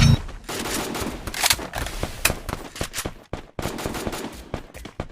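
Dense bursts of automatic gunfire and scattered shots crackle nonstop from an enemy in a shooter video game, loud and close, with rapid overlapping reports.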